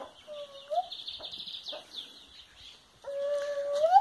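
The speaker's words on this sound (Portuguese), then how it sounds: "Ainda estão acompanhando a galinha," Hen clucking softly among her grown chicks, with short chirping calls and a louder burst of bird calls near the end, close by and without talk.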